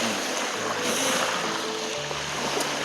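Ocean waves breaking on a winter shore, a steady loud wash of surf and rushing water filling the whole stretch without pause.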